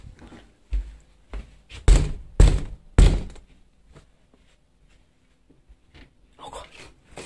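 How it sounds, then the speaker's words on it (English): Several heavy thumps land on a metal elevator door, growing louder, then a stretch of near silence with faint shuffling. "Let's bang on it."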